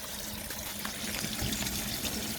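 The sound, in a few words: water leaking from garden hose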